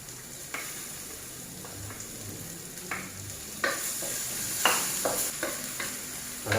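Garlic and chili stir-fry in a wok under a close, steady sizzle, broken by sharp scraping strokes of a spatula that grow louder and more frequent, with no talking.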